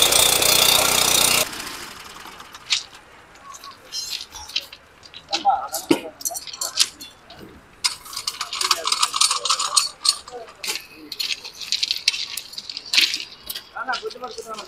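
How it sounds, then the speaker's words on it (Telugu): Machine cutting through a thermite weld on a railway track during rail welding work in Anantapur, with a loud harsh burst at the start followed by intermittent grinding and metallic scraping bursts, under talk. "చూడండి వెల్డింగ్ అయితే కట్ చేస్తా ఉంది మిషన్"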